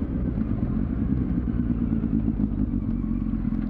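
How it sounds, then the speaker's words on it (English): A motorcycle engine rumbles steadily up close, a dense low drone with rattly clatter and no clear rise or fall, heard alone without talk. "I love that throttle blip, man. It's so direct."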